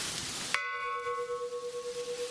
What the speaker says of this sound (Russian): Это главный колокол, да.